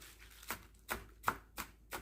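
A knife chops through a green onion stalk on a cutting board in five crisp, evenly spaced strokes. Quiet and close, with nothing else heard.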